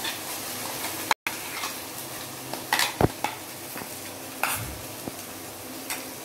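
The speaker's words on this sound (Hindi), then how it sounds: "अब मैं इसमें डालूंगी नारियल और मूंगफली का बैटर। अच्छी तरह से इसको डाल देंगे।" Coconut and peanut batter poured into a pan of fried spices and stirred, with soft scraping and clinks of a spoon against the pot over a faint sizzle, plus a few sharper knocks, no talking.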